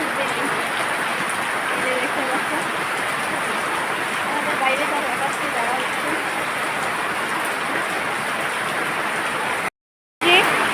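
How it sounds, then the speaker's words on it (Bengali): Heavy rain pours down in a dense, unbroken roar that stays loud and even throughout, briefly cutting out near the end. "এখনই তো দেখতেই পাচ্ছ প্রচণ্ড বৃষ্টি হচ্ছে"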